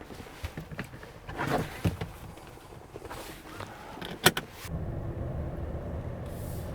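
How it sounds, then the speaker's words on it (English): A Chevrolet or GMC electric vehicle sets off for a drive: a few sharp clicks and thumps, then a low, steady road rumble with only faint motor noise. "we're going to go ahead and take this vehicle for a drive and see what it's like on the road"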